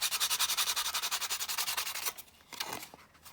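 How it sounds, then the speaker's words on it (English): A nail file rasps back and forth over the edges of paper ephemera in fast, even, close strokes, then slows to a few scattered scrapes. "we're now sanding over those creases"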